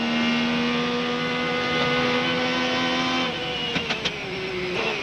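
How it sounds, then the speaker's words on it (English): A race car in the 1998 Rolex 24 at Daytona runs low on the banking, its engine a loud steady drone with a high whine; a few brief scraping clicks of the underside touching the track stand out near the end. "You can hear the car rub a little bit."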